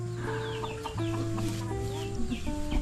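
Chickens clucking in a loose, overlapping chorus close by, with short repeated calls over steady background noise and no talk.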